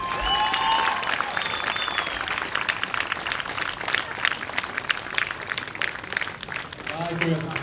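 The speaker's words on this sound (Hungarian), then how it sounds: "köszönjétek meg a szervezőknek is egy nagy tapsal" An audience at a Kistelek motorcycle meet applauds steadily, a dense patter of clapping with a few whistles, while an announcer's voice carries over it.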